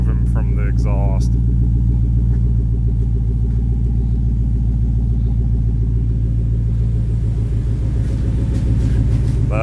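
A 2014 Mustang GT with no mufflers idles loudly close by, a deep throbbing rumble that holds steady the whole time. Brief voices come in at the start, and a little more talk is heard near the end.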